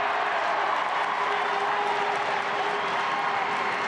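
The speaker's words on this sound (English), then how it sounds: "You can hear the crowd respond." Crowd at a 2005 Tyrone v Cavan Ulster Senior Football Championship Gaelic football replay, a broad, steady roar of cheering and clapping from a stadium audience, sustained and even without a clear peak.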